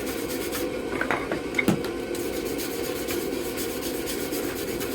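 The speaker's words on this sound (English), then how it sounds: "I'm going to give it a good scrub with a fine wire brush" A fine wire brush scrubs a metal bottle opener in brisk back-and-forth strokes, a close, continuous scratchy rasp with a couple of small metallic knocks and no talking.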